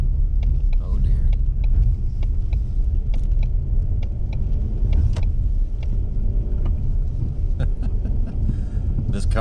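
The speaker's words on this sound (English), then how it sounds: "This car doesn't go in the snow." A Ford Mustang struggles through snow, its engine a constant low rumble with wind buffeting the microphone and scattered crunches and clicks throughout, loud and close.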